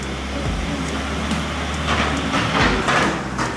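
Tram rumbling along a very steep street in Lisbon, a steady low mechanical drone with faint rail clatter and rattles throughout, fairly close and continuous with no talk.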